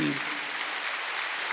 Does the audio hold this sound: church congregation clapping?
yes